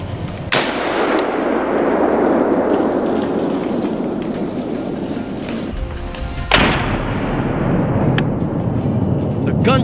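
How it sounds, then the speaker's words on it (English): Rifle shot while hunting wild boar in a marsh, a sharp loud crack that rolls into a long echo, a second sharp report following several seconds later, over a constant rain-like hiss. "The gunshot echoes"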